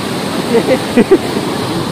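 A waterfall in Chikmagalur pours down from above as a steady, loud broadband rush, with a few faint voice fragments heard briefly over the torrent.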